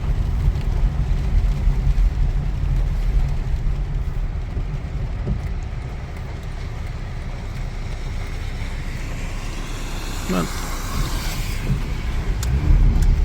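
Steady low road rumble and wind inside a moving Honda Civic with 114k miles over badly broken pavement, with occasional faint knocks and rattles throughout.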